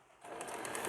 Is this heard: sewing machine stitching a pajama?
yes